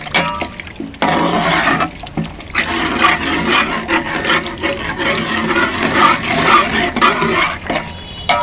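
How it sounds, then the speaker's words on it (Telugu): Tamarind water pours and splashes into a pot of fish curry, a continuous gushing sound that rises and falls, with some clatter at the start. "చింతపండు పులుసు పోసుకోవాలండి"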